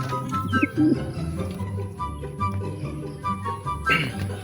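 Racing pigeons coo softly in a loft, a few low murmuring calls rising over a steady background hum and faint rustling, heard fairly close with no one talking.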